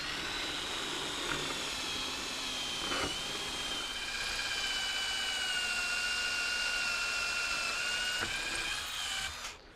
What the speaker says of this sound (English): we're going to start out with our 3/16" masonry bit. I'm going to drill 3 holes